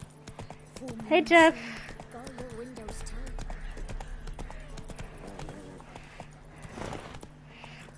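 Hooves of Roach, a horse in the video game The Witcher 3, clip-clop steadily through the scene with a brief whinny, while someone speaks a short greeting over the game audio.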